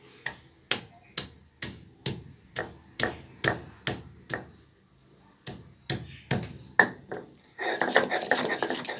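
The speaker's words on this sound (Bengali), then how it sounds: "এবার বেটে নেব আদা।" A grinding stone (shil) strikes and crushes ginger on a stone slab in a steady run of sharp, evenly spaced knocks. A rougher, continuous scraping follows at the end, all close and fairly loud.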